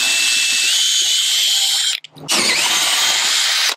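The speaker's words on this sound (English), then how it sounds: "So we'll go through with our pilot hole, then we'll come back and we'll actually drill" A high-pitched power drill whines steadily boring a pilot hole through boat fiberglass, stops briefly, then spins up again and keeps grinding, loud and close.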